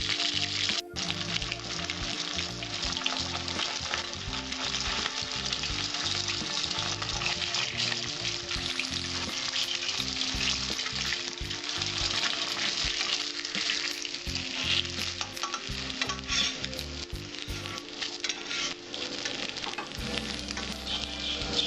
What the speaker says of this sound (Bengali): এইভাবে আমি 7টা মাছ ভেজে নেব